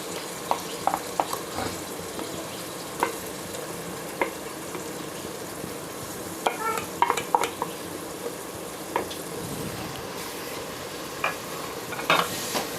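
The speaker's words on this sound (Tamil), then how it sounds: "இஞ்சி பூண்டு பேஸ்ட் சேர்த்து நல்லா வதக்குங்க" Onions and ginger garlic paste sizzle steadily in a pan for a South Indian Vellore biryani, with a spatula scraping and tapping at an irregular pace over the frying.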